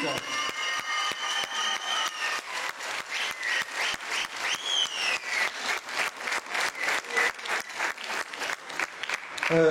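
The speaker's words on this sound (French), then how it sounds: "l'applaudir bien sûr très très très fort" Concert audience applauding a wind band performance, sustained dense clapping with a rhythmic pulse emerging, fairly loud and filling the room, with no talk on top.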